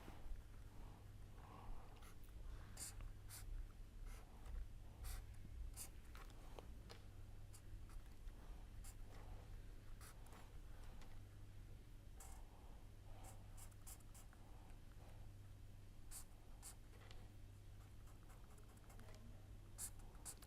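Pen or marker scratching out a pericyclic reaction chemistry problem solution, scattered short taps and strokes over a low steady hum, faint and close with no talking.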